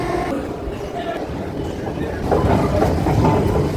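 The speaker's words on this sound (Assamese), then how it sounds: "ইয়াতে গাড়ী আহিব এতিয়া" A Delhi Metro train pulls into the station with a low, building rumble and clatter that grows louder partway through, over platform noise and a nearby talking voice.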